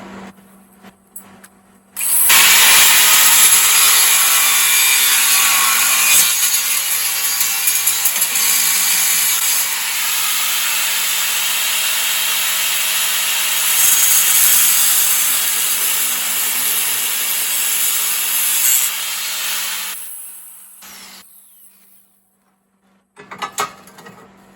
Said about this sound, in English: I'm gonna run the grinder for a couple minutes.